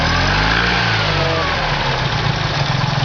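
A Fiat Cinquecento's small engine, fitted with a Fiat 126p carburettor, revs up close, its pitch rising and falling as the throttle opens, then settling back toward a steady rumble.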